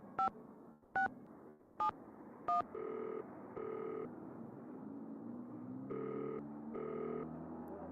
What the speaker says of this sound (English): let's call Zoo. and see if he has any more info